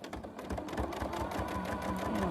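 A sewing machine stitches down a fabric bag edge, running steadily with a fast, even mechanical whir and rhythmic needle pulsing, close and alone for a couple of seconds.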